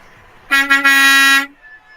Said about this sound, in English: give them a honk